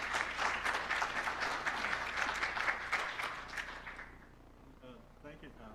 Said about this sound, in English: let's give Steve a round of applause as he starts this evening